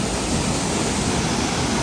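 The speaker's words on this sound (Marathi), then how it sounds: "हा बघा कसला धबधबा वाहतोय, एकदम जोरानं वाव आहे" Water on the Bhima river crashes forcefully over a waterfall, a loud, unbroken roar close by with no other sound above it.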